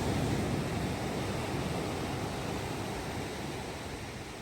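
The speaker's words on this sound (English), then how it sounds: "let's take a moment to listen to the beautiful waves for about a minute" Ocean surf at the beach in downtown Ventura, California, rolls in as a steady, soft broadband wash that fades slightly, with no voices.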